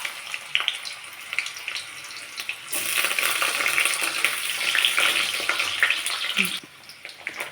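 Carrots fry in a pan with a soft crackle that suddenly rises into a louder, dense sizzle, broken by light scraping and stirring, then quiets near the end.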